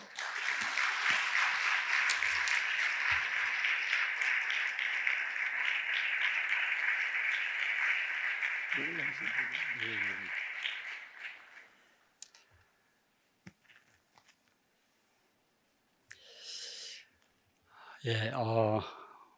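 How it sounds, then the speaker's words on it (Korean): A church congregation at a Friday late-night prayer meeting applauds to welcome a teacher seminar speaker, a steady wash of clapping that fades out after about eleven seconds, followed by scattered noises and a speaking voice. "나오실 때 큰 박수로 환영해 주세요"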